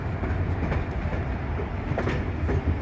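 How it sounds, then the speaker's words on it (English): A steam train with a locomotive travels along the rails, giving a steady, loud rumble with faint rhythmic clatter throughout and no voices. "please make sure to keep inside the train as we travel through"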